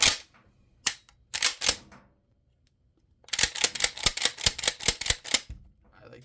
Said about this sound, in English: dry fire it, make sure everything's operating fine